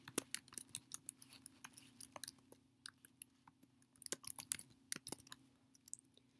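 Keystrokes on a computer keyboard typing a short text entry into a statistics program, a quick run of light, irregular clicks close by with a faint steady hum underneath and no talking.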